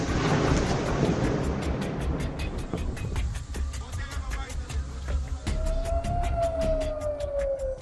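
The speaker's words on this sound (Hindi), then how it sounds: "अचानक से सायरन की आपको आवाज़ आ रही होगी" A civil defense air raid siren sounds in Tel Aviv, a rising and falling wail emerging midway over dense ambient noise and distant traffic rumble, holding a steady tone toward the end.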